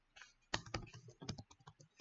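Values being typed on a computer keyboard, a short burst of close, crisp key clicks in an irregular rhythm, with a louder tap at the end and no talking over it.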